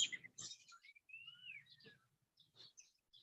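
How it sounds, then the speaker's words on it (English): Birds chirping outdoors, short scattered tweets and a thin sliding whistle, faint and intermittent over a quiet background. "Did you hear the birds?"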